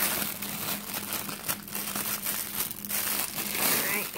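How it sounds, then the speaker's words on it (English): Plastic packaging around a Bon Jovi quilt is crinkled and torn open close up, a steady rustling and crackling that runs throughout at moderate volume. "Alright, now we got to open this plastic part. I think you could just rip this open right here."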